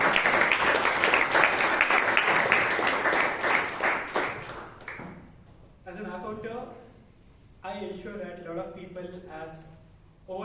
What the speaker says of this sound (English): Round of applause, Mr. Shivangi.